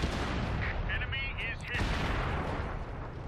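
Heavy booming tank cannon fire in a video game battle, one big blast followed by a rumbling, crackling roar that fills the moment, with a voice talking over it.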